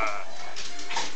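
Dogs fight close by in a short, loud burst of harsh barking, yelping and snarling that lasts about a second.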